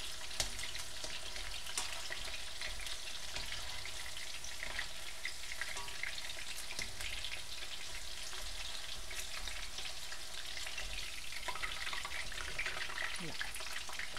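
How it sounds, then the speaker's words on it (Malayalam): Beef frying crisp in a pan, Kerala style, a loud continuous sizzle and crackle with occasional stirring scrapes, steady from start to finish without speech. "ഇതൊരു ഏകദേശം 2 മിനിറ്റോളം ഇളക്കി കൊടുത്ത് ഫ്രൈ ചെയ്തെടുത്താൽ മതി"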